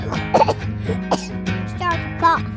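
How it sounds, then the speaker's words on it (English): A grown man's coughing, a few harsh bursts in quick succession, up close, with voiced, throaty tones that may be a deliberate or acted cough. "Start to cough."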